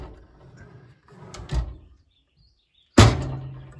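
A drawer on a US General tool chest slides and closes, a soft scrape followed by a sharp, loud thump, close by with no talking.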